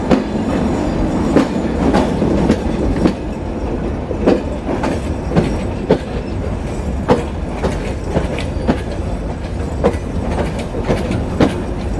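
Rupsha Express passenger train running after departing Khulna railway station, a steady loud rumble with regular clickety-clack wheel beats over the rail joints throughout, heard from inside the carriage.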